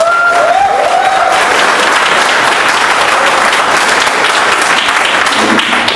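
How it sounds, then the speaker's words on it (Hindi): Loud, sustained applause from a large crowd at a sales training meeting, dense clapping continuing evenly throughout with a faint whistle near the start. "एक बार जोरदार ताली होनी चाहिए।"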